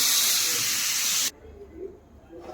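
Pressure cooker cooking pasta lets out a loud, steady hiss of steam that cuts off abruptly partway through, leaving quiet kitchen sounds.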